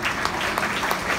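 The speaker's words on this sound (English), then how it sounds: "So please give him a round of applause." Audience applause at an anniversary gala in a Houston hall, a brief, dense wash of many hands clapping at steady loudness.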